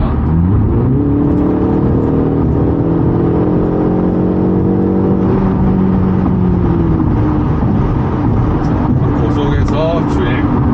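A BMW M235i xDrive Gran Coupe accelerates hard at speed on the road, its engine note climbing in pitch and then holding steady, loud and close from inside the cabin, with someone speaking over it.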